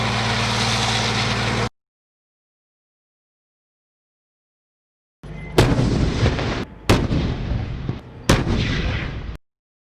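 A VT-4 main battle tank fires, heavy booming blasts arriving in a quick cluster of three or four after a stretch of silence, loud and reverberant outdoors.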